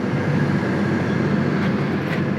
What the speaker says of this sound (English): Watch the tram go.